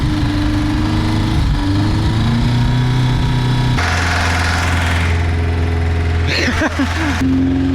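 Engine of a cheap Lada Zhiguli car accelerating up a steep hill, loud and steady, its droning pitch rising and shifting as it strains, heard close from inside the car, with a brief squeaky sound near the end.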